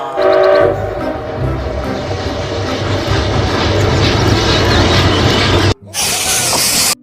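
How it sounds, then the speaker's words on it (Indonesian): Toy train running around a layout of toys, a steady loud rattling whir with clattering texture throughout, briefly cutting out near the end before resuming. "kereta apinya mengitari mainan"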